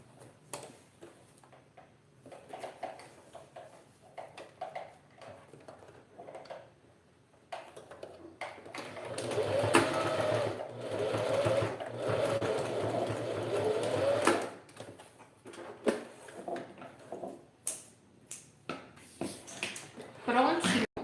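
Sewing machine stitching fabric linings for a men's toiletry bag, running steadily for several seconds in the middle, between quieter stretches of handling and small clicks.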